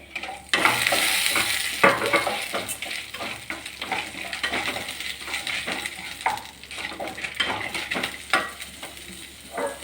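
Ingredients for thuvaiyal, including ginger and garlic, sizzle as they roast in a pan while a spoon stirs and scrapes against the metal in irregular close strokes over a steady frying hiss.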